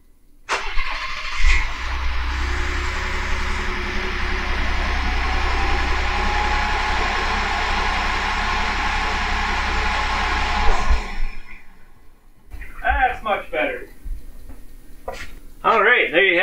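A Ford F150 EcoBoost truck with a broken crankshaft cranks and catches, then runs at a loud, steady idle for about ten seconds before cutting out; someone speaks briefly afterward.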